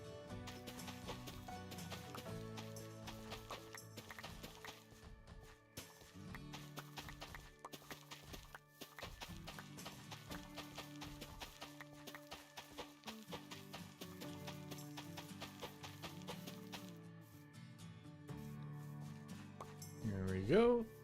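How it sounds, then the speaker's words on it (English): Horse hooves in Minecraft, a steady run of clip-clop steps over about twenty seconds, faint and even, with game sounds around them. "I'll leave that horse there for now."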